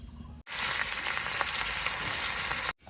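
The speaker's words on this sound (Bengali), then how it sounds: "দিয়ে তেলে ভেজে নেবো।" Turmeric-coated fish for a spicy fish dish drops into hot oil and sets off a loud, steady, close sizzle that holds for about two seconds and then cuts off abruptly.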